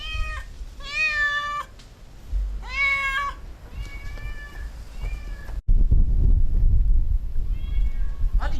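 A cat trapped in a fire-engulfed neighbourhood meows repeatedly, loud and close, several drawn-out cries in the first half, then rumbling handling noise and a fainter final meow.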